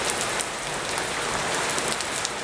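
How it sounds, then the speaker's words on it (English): Steady summer rain falls outside a house, a dense, even patter on surfaces that continues without a break. "It doesn't happen very often in the summer, but I'm always very grateful for some rain."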